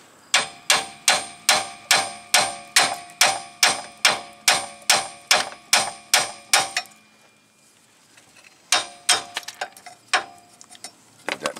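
A hammer whacks a control arm on a 2005 Chevy Aveo, more than a dozen loud, sharp metallic strikes in a steady rhythm, then a pause and a few scattered clanks.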